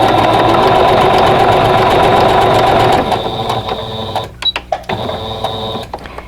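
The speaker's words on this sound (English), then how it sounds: "then we're going to take this to the sewing machine. We're going to sew it." A sewing machine stitching a quarter-inch seam on a quilt block, a steady close motor whir for about three seconds, then stopping and giving way to a few small clicks and handling sounds.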